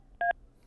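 A single short telephone keypad beep sounds, set off by an elbow resting on the phone's buttons. It is clear and isolated against a quiet background.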